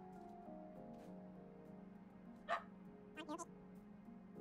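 A Japanese Spitz in the video game Golden Grove gives a short bark burst, one yip and then a quick double bark. They sit over a steady bed of game music and ambience, clear but not loud.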